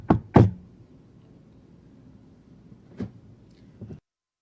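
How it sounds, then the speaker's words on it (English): Knocking on a door in a staged sales-call role-play: two sharp raps close together, a pause, then two softer knocks, with no talk over them. "knock on my door"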